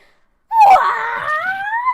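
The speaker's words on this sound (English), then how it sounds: "She certainly can scream." A woman in the video game Ace Attorney lets out a long, loud, wavering scream that rises and holds for over a second, with no other sounds around it.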